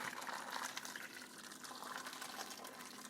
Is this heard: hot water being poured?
yes